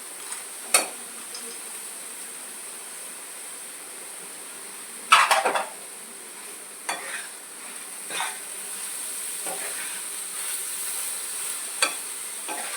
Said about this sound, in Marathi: आता आपलं मिश्रण चांगलं परतून झालेलं आहे त्याच्यामध्ये खसखस टाकूयात आणि ड्रायफ्रूट्स